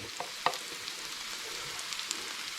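Browned onions and three chopped garlic cloves fry in a pan for a Fijian coconut fish curry, a soft steady sizzle with a few sharp crackles and stirring taps, close and unbroken by speech.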